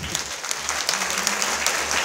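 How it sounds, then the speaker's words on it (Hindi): Loud, dense applause from a festival crowd at an ISKCON temple Krishna Janmashtami celebration, sustained steadily for about two seconds with no voices over it. "जोरदार तालियां से।"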